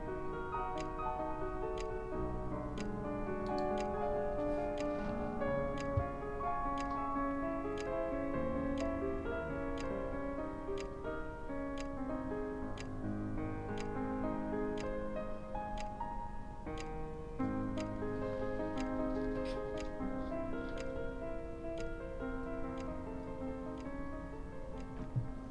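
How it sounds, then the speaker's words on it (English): A clock ticks steadily in a quiet room during a fantasy story, the regular ticks sitting softly under a continuous bed of layered music that carries throughout. "Lulled by the ticking of the clock"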